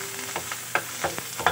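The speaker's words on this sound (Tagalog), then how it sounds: "To make all these ingredients stir evenly" Ingredients being stirred in a pan with a little oil, giving a soft scraping swish with a few sharper strokes against a faint sizzle, close and steady, no voices.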